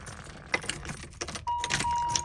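Car keys jangling close by as a key goes into the ignition of a 1989 Corvette, a brief bright metallic rattle of several clinks, with a faint tone toward the end.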